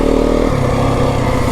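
Yamaha WR 250F dirt bike running on a single-track trail, a steady, loud near engine drone with a pitch shift partway through, no talk over it.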